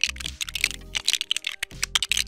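Plastic keycaps on a Monsgeek M2 keyboard click and clack in quick irregular bursts as they are pulled and swapped, close and crisp, with faint mechanical rattles between taps and no talking.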